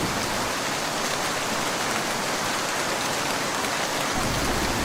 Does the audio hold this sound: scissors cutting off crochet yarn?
no